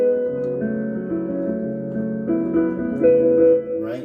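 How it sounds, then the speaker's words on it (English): Piano playing a delayed octave of B in a Nujabes piece, "Another Reflection": sustained chords shift every second or so, then notes enter late, up close and moderately loud, with no voice. "he hits like a delayed octave of B."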